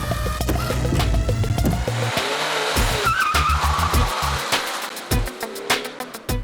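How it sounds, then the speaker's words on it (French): A taxi car accelerates hard with its turbo engaged, the engine roaring loudly under sharp tire squeals and skidding, close and intense throughout. "Quand il met le turbo, il met le turbo là."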